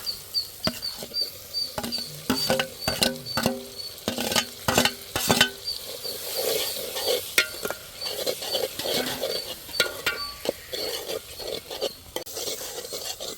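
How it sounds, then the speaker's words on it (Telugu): Tomatoes drop into a well-heated pan and fry with a steady sizzle, broken by repeated clanks and scrapes of a ladle stirring against the metal, close and fairly loud with no talking. "బాగా వేడిపోయిందండి ఇప్పుడు టమాటాలు వేసేసుకున్నాను అందులో"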